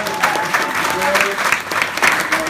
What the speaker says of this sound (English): can we have a big round of applause for Julie?